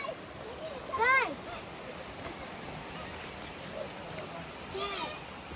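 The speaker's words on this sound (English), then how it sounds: "what can you hear? Water. Wow, there's the river." A river flows on a forested mountain trail, a soft steady rush heard from a distance, with birds chirping twice above it.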